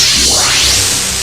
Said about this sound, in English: If you could hear the sound of a clean fuel injector,